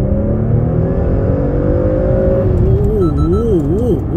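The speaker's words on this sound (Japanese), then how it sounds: "スポーツモードで走行中ですね。 では加速してみましょう。" A Porsche Macan S SUV with a 2.9-litre V6 turbo accelerates hard in sport mode, its engine note climbing steadily in pitch, loud and close from inside the cabin, with the drone wavering near the end as the revs shift.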